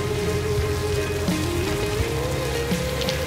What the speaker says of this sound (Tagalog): Kakainis naman, tagal tumila ng ulan.